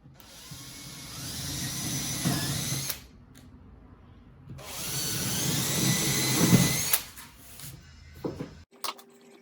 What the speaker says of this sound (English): So I marked the location of the holes and now I'm gonna drill them.